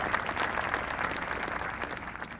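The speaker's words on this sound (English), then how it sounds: "Give him another round of applause." An audience claps in sustained, dense applause at the USS Delaware commissioning ceremony, a steady wash of many hands with no talk.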